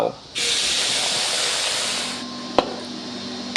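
A sudden loud hiss and sizzle as water hits palm sugar in a hot pan over medium-low heat, steady for about two seconds before fading to a softer simmer with a couple of clicks.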